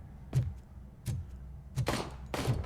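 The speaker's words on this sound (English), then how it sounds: "Whoa, gunshots." Four sharp, heavy gunshot bangs in the video game RoboCop: Rogue City ring out at roughly even intervals, each a short loud burst with a brief tail, and no voices are heard.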